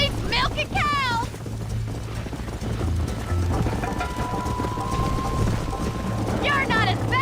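Horse hooves clop in a steady galloping rhythm in Red Dead Redemption, running continuously beneath wind, background game sounds and voices talking over the ride.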